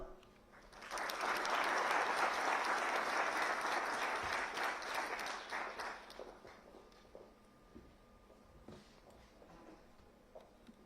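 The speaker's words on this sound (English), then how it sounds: "Let us, with a huge round of applause, welcome you, sir." A large audience gives a huge round of applause to welcome CDS General Anil Chauhan at the BrahMos user meet. The applause swells quickly, holds strong for several seconds, then tapers into scattered claps and quiet room sound.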